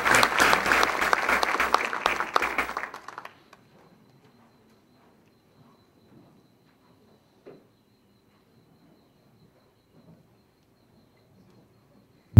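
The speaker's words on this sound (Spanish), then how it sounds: "Les pido un aplauso para nuestro invitado" An audience at an academic lecture on governmental accounting applauds the guest speaker, a dense burst of clapping for about three seconds that cuts off abruptly into near silence with faint room noise.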